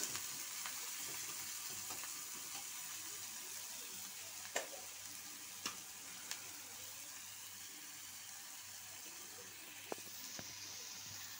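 Onions frying in a pan for a plain egg curry tempered with cumin, a soft steady sizzle and hiss running throughout at low level, with a few faint clicks of stirring.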